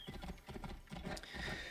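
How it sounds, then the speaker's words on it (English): Horse hooves clip-clop in a steady trotting rhythm while riding in Assassin's Creed Origins, a quiet, close, repetitive clatter with no talking. "I'm just gonna ride the horse."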